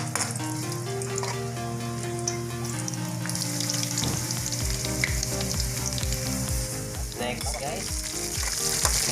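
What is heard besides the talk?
garlic frying in oil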